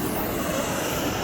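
A train rumbles past as a broad, steady roar that stays fairly quiet throughout the brief moment, with no talking over it.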